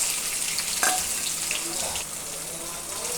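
Onions and green chilies, with tempering spices, frying in hot oil in a kadai: a steady, close, bright sizzle with a brief louder crackle near the start, then settling to a constant hiss.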